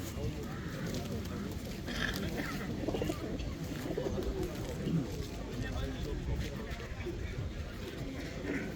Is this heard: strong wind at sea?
no